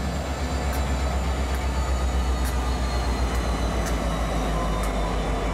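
CSX freight train 603, led by an SD70 with an SD50 in trail, rolls steadily past with a continuous loud rumble and clattering wheel noise, with faint periodic clicks from the rails.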